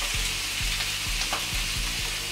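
Onions sizzling and frying with sausages in a hot pan, a steady loud crackle close up with a few soft rhythmic scraping stirs, no voices.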